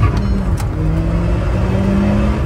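Volkswagen Golf R with a manual gearbox accelerating hard, loud engine note climbing steadily in pitch as revs build, close and continuous with no talk over it.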